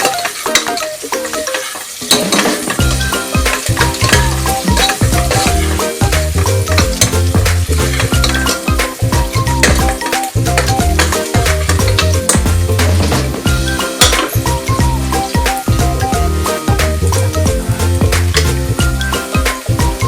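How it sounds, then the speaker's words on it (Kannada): Chopped onions fry and sizzle in hot oil until browning for a Natti-style mutton sambar, stirred continuously with steady scraping against the pan, loud and close, with no talking. "ಈರುಳ್ಳಿ ಎಣ್ಣೆಯಲ್ಲಿ ಬ್ರೌನ್ ಆಗೋವರೆಗೂ ಹುರ್ಕೊಬೇಕು"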